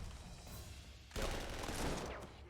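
Gunfire from units in the strategy game Panzer Corps 2: a low rumbling backdrop, then a sudden loud burst of shooting about halfway through that continues densely to the end, with no talk.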